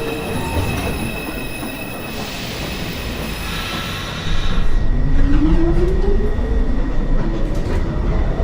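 A New York City subway 2 express train rolls through a station near 207th Street, its wheels squealing in long rising screeches over a loud, steady rumble of rail noise.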